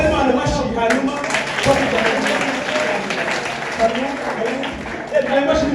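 A church congregation applauding during a service, sustained loud clapping from many hands mixed with voices and crowd noise throughout.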